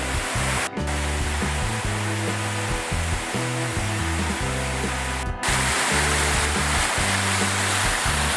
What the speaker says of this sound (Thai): ฝ่าน้ำตกชั้นนี้ไปนะครับอาจจะต้องมีเปียกหน่อย